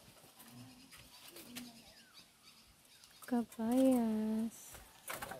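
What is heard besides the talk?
bird resembling a dove, calling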